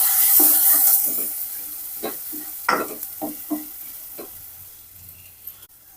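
Finely chopped onions hit hot oil with a pinch of asafoetida, a loud hissing burst at first that fades into quieter frying with a few sharp stirring knocks and clatters.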